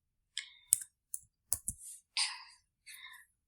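Keyboard typing at a computer during a web page coding lesson: a few separate clicking keystrokes and short clattering bursts, close and fairly quiet, with no talking.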